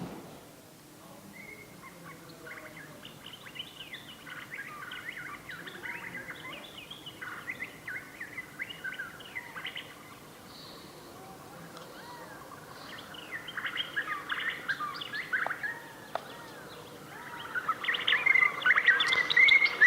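A quiet woodland ambience played from a Sound Oasis BST-400 Bluetooth speaker, with varied bird chirps and calls, growing busier and louder toward the end.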